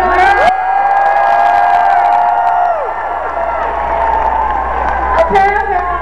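A crowd of about 5,000 people cheering at Minecon, loud sustained shouting and whooping filling a large hall, with long high whistles and screams rising above the roar.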